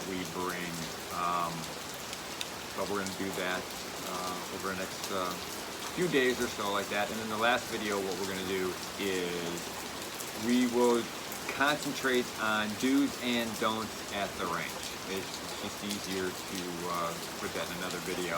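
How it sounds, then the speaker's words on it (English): Heavy rain pours down outside in a constant dense hiss, heard beneath someone talking steadily close by. "I'm sure you can hear the rain in the background."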